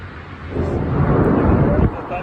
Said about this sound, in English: There's the thunder to go with it.